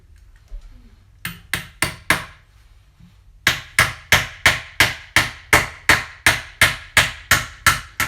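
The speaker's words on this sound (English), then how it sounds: "So you just pound these in." Anchor bolts are hammered into a concrete floor with sharp, ringing metallic strikes, first a few spaced blows, then a brief pause, then a steady rapid series of about fourteen evenly timed hits, close and loud.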